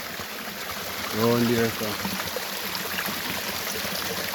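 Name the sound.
spring water flowing from rock in Jamaica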